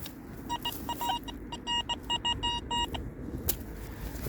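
An XP Deus 2 metal detector sounds a series of short electronic beeping tones while being swept over a hole outdoors, several choppy bursts in a broken rhythm over low background rumble.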